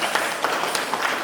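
An audience at a dance program at Batu Caves, Malaysia, applauds after a children's Shiva Thandavam performance, a steady patter of many hands clapping at moderate distance, with no talk over it.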